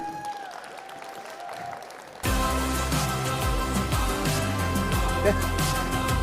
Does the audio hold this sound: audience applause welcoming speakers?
yes